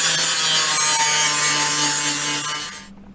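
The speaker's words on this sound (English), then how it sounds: "I'm going to take the grinder down to that, and I'm going to bring that around and get the contour of the panel back" An angle grinder dresses a welded steel body panel on a 1974 MGB GT, a loud, steady abrasive whine running close and continuous before cutting off abruptly near the end.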